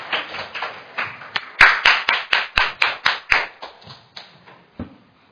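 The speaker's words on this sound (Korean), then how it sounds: "큰 박수 부탁드립니다" An audience claps for a speaker at a Korean legislative gender forum; a burst of hand clapping rises sharply, holds with distinct sharp claps, then thins out and fades, heard close without talk.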